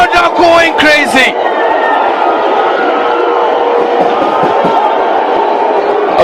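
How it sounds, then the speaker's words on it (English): A stadium crowd roars after a goal in a football match between UNAM and Tigers, a dense, loud, continuous wall of cheering with a few piercing whistles or shouts near the start. "The crowd are going crazy."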